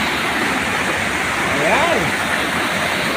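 A strong mountain river rushes loudly and steadily in a continuous roar, while a person speaks briefly over the water.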